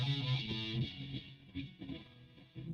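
Distorted electric guitar through an amp simulator, a few chords with a gritty, buzzy tone, played alone at moderate volume.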